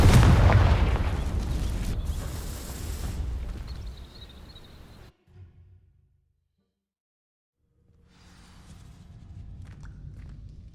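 In Hogwarts Legacy, the Confringo fire spell sets dry vines alight with a loud, crackling whoosh of burning that fades into near silence, then a low rumble and rustle build again.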